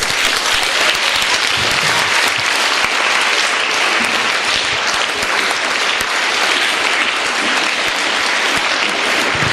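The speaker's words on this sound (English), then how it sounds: "Give them a good round of applause there" Loud, sustained crowd applause at a school science quiz event as a team comes on stage, a dense unbroken wash of many hands clapping throughout.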